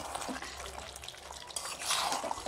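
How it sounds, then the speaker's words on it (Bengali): Raw potatoes are stirred into a simmering chicken curry, giving a wet sizzle with scraping and sloshing of the mixture in the pan, steady and close for a couple of seconds. "এবার আমি আলুটা দিয়ে ভালো করে কষাবো"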